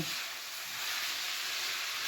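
Liver stewed with onion sizzles steadily in a frying pan, a continuous close hiss with faint stirring and no voices.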